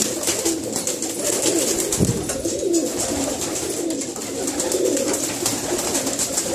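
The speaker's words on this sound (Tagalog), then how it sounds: "And kasama po nila yung mga English tipplers ni Brad na hen." English tippler pigeon hens cooing inside a loft, soft repeated low coos over a constant background hum, fairly close with no talking.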